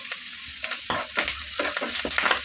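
Curry leaves hitting hot oil in a frying pan during a bean fry, a crackling sizzle with sputtering pops and stirring scrapes over about two seconds.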